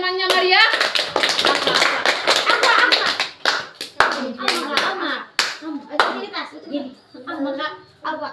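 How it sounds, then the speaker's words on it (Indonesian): A classroom of children applauds a classmate with a loud burst of many quick hand claps that thins into scattered claps, with children's voices chattering over the end. "Beri aplaus buat temannya Maria."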